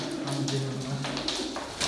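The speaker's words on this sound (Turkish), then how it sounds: "Vallahi çok çok güzel kuşlar var." Pigeons in a coop give soft, low, throaty coos against a busy background of rustling and other birds. The cooing sounds close but gentle.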